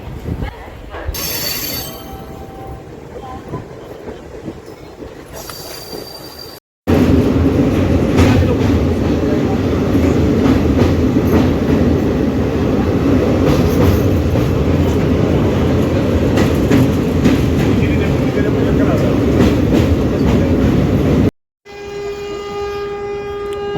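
A passenger train pulls out of Prayagraj Junction, its wagons rumbling loud and steady with a continuous rolling clatter. Lighter ambient noise can be heard briefly before and after.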